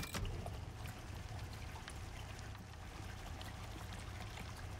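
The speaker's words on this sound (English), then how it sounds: "I hear water noises." Water flows in the Icarus video game, a soft steady trickling and pouring wash that runs evenly throughout, faint and heard on its own.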